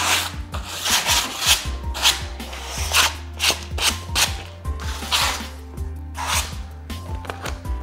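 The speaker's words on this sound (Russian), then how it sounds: "мы берем кусочек шкурки и проходимся по краю" A piece of sandpaper is rubbed back and forth along the edge of a skateboard deck in close, rhythmic rasping strokes with short pauses, and nobody speaks.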